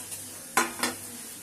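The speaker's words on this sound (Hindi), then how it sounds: "ये प्याज का भगार लगा रही हूँ, इससे पुलाव बहुत ही ज़्यादा अच्छा खुशबूदार हो जाता है।" Fried onion tempering is added to matar paneer pulao, giving two quick sharp bursts of sizzle close together over a faint background hiss.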